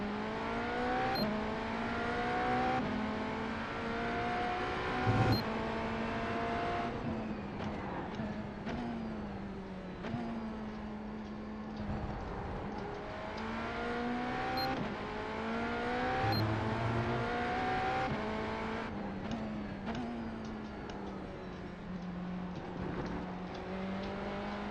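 Race car engine in the iRacing NASCAR game at Kansas, held loud and steady with rising and falling revs as the throttle opens out of a corner and through gear changes, continuous for the whole stretch.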